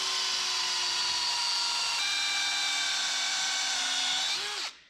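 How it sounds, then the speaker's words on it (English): A power drill bores a hole in a metal part clamped in a vise, a steady high whine for nearly five seconds that shifts pitch partway through as it bites, then spins down abruptly. "Let's drill a hole. Yeah, drill a hole in it."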